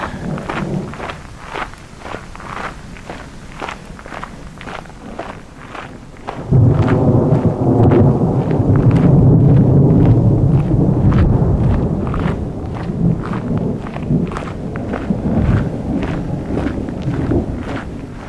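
Thunder rolls and reverberates off the surrounding mountains, a low rumble that swells suddenly partway through and stays loud, echoing for several seconds before slowly easing, with faint scattered knocks throughout.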